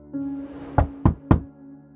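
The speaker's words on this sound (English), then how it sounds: "knocking on her door" Three firm knocks on a door, evenly spaced and close, sounding alone over a faint steady hum with no voices.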